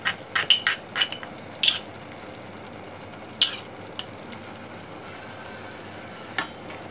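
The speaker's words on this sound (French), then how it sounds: "on va y ajouter un peu de notre jus ici qui est en train de réduire" Pan juices reducing on a stove while cooking homemade morel croustades, a soft steady bubbling broken by several sharp utensil clinks and scrapes against the pan, close and fairly quiet.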